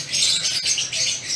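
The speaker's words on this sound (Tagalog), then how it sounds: "makarinig ng mga huni ng iba't ibang klaseng ibon" Small birds chirp and tweet at a garden café, a dense, busy chorus of high calls close by, heard without any voices.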